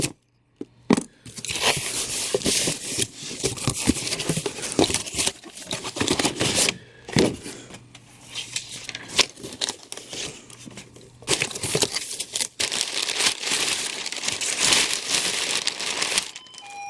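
Packing paper crumpled and crinkled while unboxing collectible comics and figures, a near, continuous rustling with sharp crackles and brief pauses.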